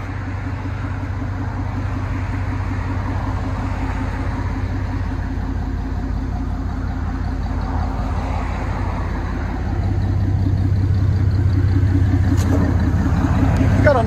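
A deep, steady engine idle from a Chevy Silverado 4.3L V6 with side-pipe exhaust rumbles continuously with a low throbbing pulse, getting slightly louder near the end; no talking.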